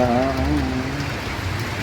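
Rain falling on a street in Hyderabad, a steady dense patter and wash close by, with a voice speaking briefly over it at the start.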